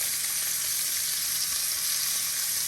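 Sausage, one link still in its casing, fries in a pan with a steady, even sizzle that stays close and constant throughout, with no talking.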